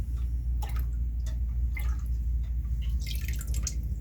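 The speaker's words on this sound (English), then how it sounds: "Give it a few stirs." Liquid sloshes and drips close by as a JMS soil biology brew is stirred with a tray used like a big spatula, with irregular wet splashes over a steady low rumble.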